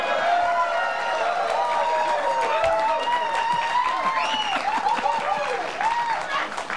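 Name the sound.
studio audience applause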